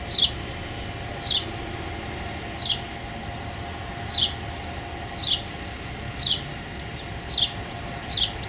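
Small bird chirping in a garden, short sharp high chirps repeated roughly every second, faint over a steady low outdoor rumble.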